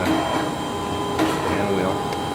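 Hand wheel turned on a Mitsui-Seiki MSG-250H2AH surface grinder gives soft mechanical whirring and light clicks over a steady machine hum in a shop, close and continuous.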